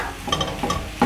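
Diced tomatoes and zucchini are stirred in a hot pan with minced beef, soft sizzling under a few scraping strokes of a spoon in quick succession, close by.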